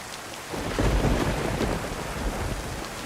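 A heavy thunderstorm in DayZ, with a deep thunder roll swelling up and fading under a dense, constant wash of hard rain, loud and close.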